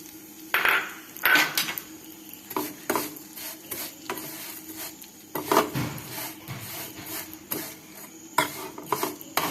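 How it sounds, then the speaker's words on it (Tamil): Vermicelli being roasted in ghee for payasam, intermittent scraping and clinking of a utensil against the pan in irregular strokes, fairly close, with only faint frying underneath. "நெய் ஊற்றி எடுத்து வச்சிருக்க சேமியாவை அதில் போட்டு"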